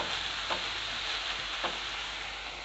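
An onion and egg curry sizzles steadily in a pan while being stirred, with two soft scraping strokes of the spoon rising above the constant frying hiss.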